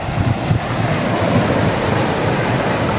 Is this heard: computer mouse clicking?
no